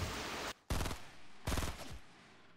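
Suppressed SMG fire in a Fortnite match, two rapid bursts of muffled shots separated by brief gaps, close and fairly loud.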